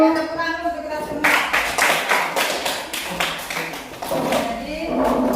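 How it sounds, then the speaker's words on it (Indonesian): A school class claps together, a burst of rapid overlapping hand claps that starts abruptly and carries on for several seconds, with voices mixed in. "kita tepuk tangan untuk kita semua"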